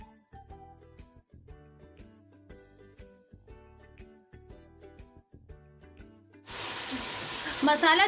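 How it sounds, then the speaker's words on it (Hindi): Chicken and masala spices sizzle loudly in a pan with a little water, entering partway through as a sudden bright, crackling burst after quieter clinking and kitchen sounds. "मसालों को अच्छी तरह भून लेंगे चिकन के साथ"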